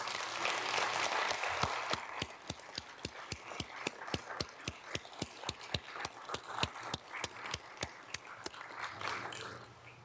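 A crowd applauds loudly and steadily, then the clapping thins into scattered, rhythmic individual claps before swelling again near the end.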